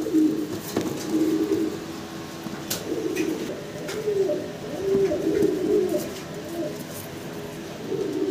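American Helmet pigeons coo repeatedly in low, throaty rolling calls, fairly close, with a steady background hum and no talking.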